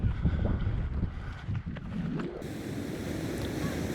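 Strong wind gusts buffet the microphone on open grassy downs at Durdham Downs, a continuous low rumbling roar that swells and eases over a few seconds with no one talking.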